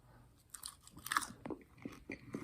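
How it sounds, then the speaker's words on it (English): Bacon is bitten and chewed close up, with a sharp crunch near the start followed by several wet, crisp chews spaced irregularly, with no talking over it. "Let me grab a piece and chomp into it for the closer."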